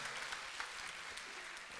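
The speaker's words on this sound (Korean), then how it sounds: "박수." Congregation applause during a church sermon, a brief wash of clapping, fairly faint and steady, with no distinct voices over it.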